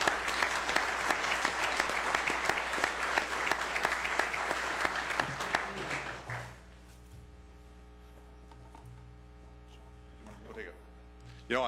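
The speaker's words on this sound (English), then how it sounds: "He certainly deserves a nice round of applause." Round of applause at a city council meeting honoring a retiring police officer, a loud, sustained burst of many people clapping that fades out after about six seconds into quiet room tone.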